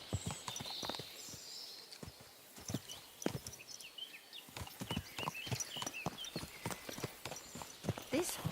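A horse's hooves clip-clop close by in a loose walking rhythm with brief pauses, while light chirping sounds drift faintly in the background.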